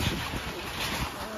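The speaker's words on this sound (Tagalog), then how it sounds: "Lakas na namang hangin dito guys." Strong wind buffets the microphone in a steady, loud rumble of low roar and gusty noise, with no voices on top.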